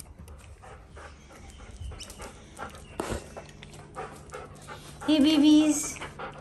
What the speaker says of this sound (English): Got some excited puppies.